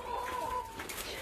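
Spotted doves at a dove farm, a brief soft cooing call with a faint thin tone, fairly close over light background noise.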